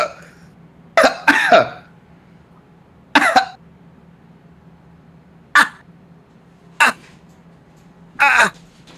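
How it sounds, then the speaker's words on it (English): Five or six short, harsh bursts spaced a second or two apart over a low steady hum, a video game character's raspy coughs, fairly close. "the librarian started to cough."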